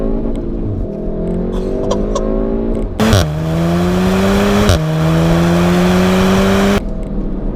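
A Volkswagen Golf R MK7 with four-wheel drive and DSG gearbox accelerates hard from inside the cabin, the engine note rising through a loud rev, dropping sharply at quick gear changes around mid-run, then climbing again.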